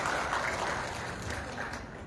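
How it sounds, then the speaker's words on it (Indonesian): Brief burst of audience clapping at a national seminar hall, dense and fairly steady, filling the moment alone without speech. "Tepuk tangan dong untuk Singkawang."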